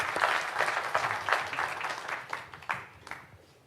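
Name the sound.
applause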